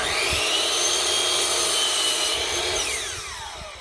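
A power saw cuts through wood boards for theatrical flats and platforms, a loud, close, steady whine that drops in pitch and fades as the cut finishes.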